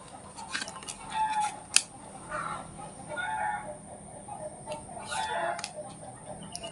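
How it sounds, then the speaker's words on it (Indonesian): Several roosters crow in the morning, their calls overlapping and repeating at moderate distance with some clucking and small bird sounds between, and no one talking. "Aku itu ngambil readingannya pagi ya, jadi ayam itu banyak berkokok"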